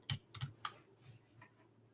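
Typing on a computer keyboard to enter buy and sell keys during a trading-software demonstration, a few quiet, close keystrokes in a short irregular burst followed by softer taps.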